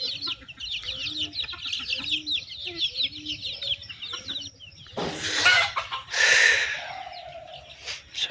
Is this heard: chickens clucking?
yes